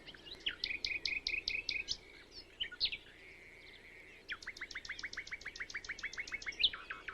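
Songbirds calling from thick vegetation in rapid trilled bursts, bright chirping series with a short pause, then another fast repeated call sequence; clear and moderately close.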